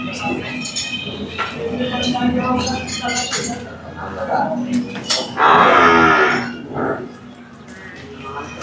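Heavy-sized buffaloes at a dairy farm that also keeps Jafarabadi buffaloes give a loud, drawn-out moo midway through, with lower grunts and lowing around it while someone talks over the barn noise.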